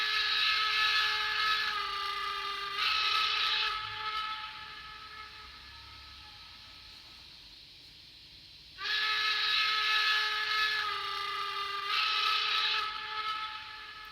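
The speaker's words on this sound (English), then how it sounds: "the short and the long one combined," A model steam locomotive's digital sound decoder plays a whistle, a long then a short bright blast, a quieter mechanical hiss between, and then the same pair repeats.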